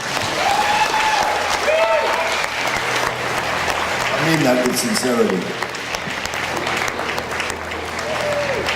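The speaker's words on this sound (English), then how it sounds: "give yourself a very good round of applause" An audience at a panel event claps steadily and fairly loudly throughout, while voices speak and call out over the applause.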